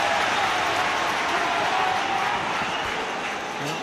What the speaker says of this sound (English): Cheer to the rafters by the noisy Hearts fans